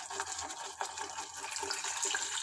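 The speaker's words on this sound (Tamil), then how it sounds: "இப்போ இதில் தண்ணி ஊற்றிக்கலாம்." Water poured into a pot of Tamil pepper rasam, a steady broadband splashing pour lasting a couple of seconds, close and moderately loud with no talking.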